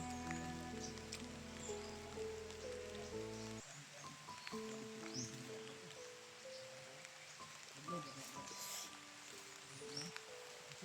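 Rain falls softly and steadily, a faint continuous patter, with some quiet tonal sounds in the background.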